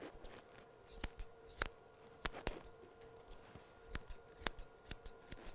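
Grooming scissors trimming a miniature poodle's soft fur into a teddy trim: quick, close, crisp metallic snips in an irregular rhythm, some in rapid pairs, over a quiet room with no talking.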